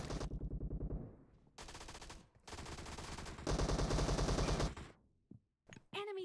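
Several loud bursts of automatic gunfire in the PUBG Mobile video game, with rapid rattling volleys separated by short pauses and a few sharp single shots near the end.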